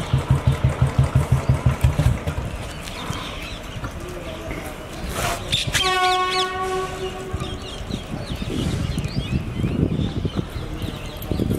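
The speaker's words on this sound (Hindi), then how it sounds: "ये है खन्ने का रेलवे स्टेशन" A train at Khanna railway station sounds a long horn over rumbling wheels and station bustle, preceded by a rhythmic clatter of rolling cars; the horn blares loud and close for a few seconds amid ambient noise.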